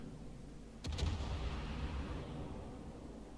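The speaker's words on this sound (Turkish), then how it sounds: "Hadi bakalım rastgele diyerekten gönderdik mermilerimizi" Naval artillery shells fired from a warship in World of Warships, one sharp, heavy boom followed by a long rumbling decay that fades slowly, no talking over it.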